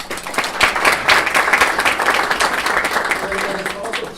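Audience applause at a health leadership council launch event in New York City, sustained and even clapping throughout, fairly loud with some crowd noise mixed in.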